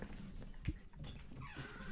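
A 16-year-old pet dog named Eggroll gives a faint, brief whimper as he walks into an indoor room, heard close against a quiet background.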